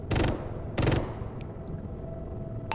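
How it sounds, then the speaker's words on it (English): Two short, loud bursts of rapid automatic gunfire from an aircraft's gun in Arma 3, separated by a brief pause, followed by quieter battlefield ambience and a faint later crack. "I'm gonna start firing now"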